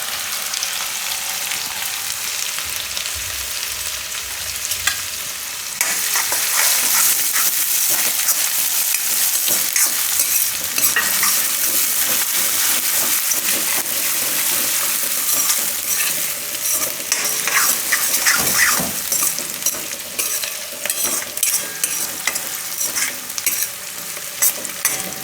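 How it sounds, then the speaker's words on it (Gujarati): Ginger, green chili, garlic and onion fry in oil with asafoetida in a Gujarati kitchen, a loud continuous sizzle that grows fuller partway through, broken by frequent close scraping and clinking as the mixture is stirred, with no voices. "થોડીક વાર ફેરવી લેવાનું આ બધું, એટલે ડુંગળીનો આ રીતે થોડો કલર ચેન્જ થાય"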